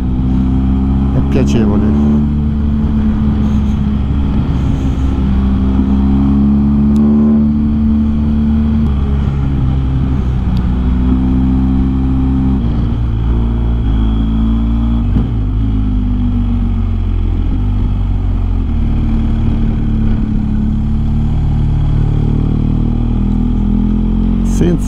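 A BMW GS 1250 Adventure motorcycle engine drones steadily at close range during a clutchless gear shift while riding over a mountain pass, with a voice talking over the engine throughout.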